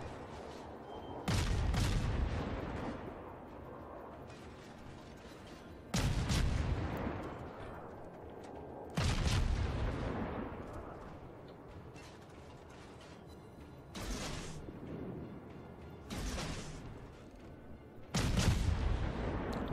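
Naval guns fire in the warship game World of Warships, heavy booming salvos landing every few seconds, each sharp blast trailing off in a rumbling decay, with a quieter mechanical hum between shots and no voices.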